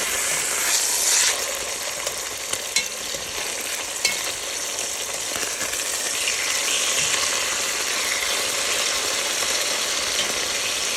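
Chicken pieces being flipped in a hot pan for chicken cabbage soup sizzle steadily and loudly, a dense frying hiss with a few faint clinks and scrapes from the turning.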